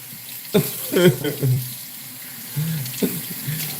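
Water runs steadily from an indoor tap in a house, a constant hiss beneath short bursts of voice and other noises.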